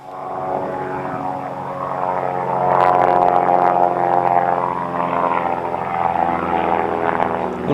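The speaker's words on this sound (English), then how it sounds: "One of my favourite planes, I want one of those. Cessna Skymaster." Cessna Skymaster propeller plane passing overhead, a steady droning engine hum that swells around the middle and stays loud through the end, with no talk.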